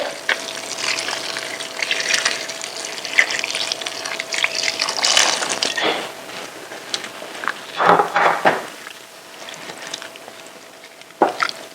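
Water pours and splashes into a cooking pot of chicken vegetable pulao with peas, a steady gushing stream with a few louder sloshes and clinks toward the end.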